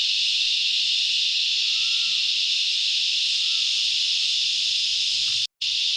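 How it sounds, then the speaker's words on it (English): Cicadas in the trees beside a bass-fishing spot sing in a loud, unbroken high-pitched drone that holds steady throughout, with one very brief cutout near the end. "As you can hear in the background, cicadas are singing"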